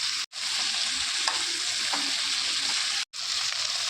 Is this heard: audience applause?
no